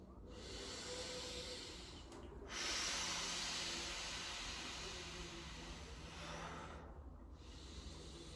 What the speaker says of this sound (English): full inhales, full exhales